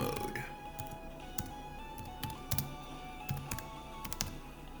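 Quick bursts of typing on a computer keyboard, clicking in irregular clusters at close range while a person talks over them.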